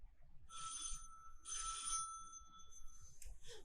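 An old telephone bell rings in a stage production of the play "Sorry, Wrong Number", giving two bright, moderately faint bursts followed by shorter broken rings against a quiet theatre hush.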